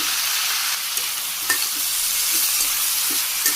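Green chilies with ginger and salt stir-fried in a pan, a steady broadband sizzle with occasional scrapes of the stirring spoon, close and fairly loud throughout with no talking.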